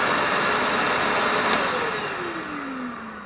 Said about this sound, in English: I'm still very impressed with how quiet the vacuum is.